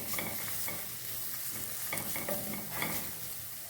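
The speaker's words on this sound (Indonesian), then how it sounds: "Kita oseng-oseng lagi." Tomato paste is stir-fried in a pan for fish curry, sizzling steadily under rhythmic scrapes and stirs of a utensil, close by, with no talking.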